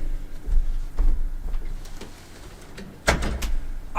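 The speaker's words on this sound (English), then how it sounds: "let me close my door." A room door swings shut indoors with a couple of dull thumps and a latch click, fairly close, followed by rustling movement and no talk.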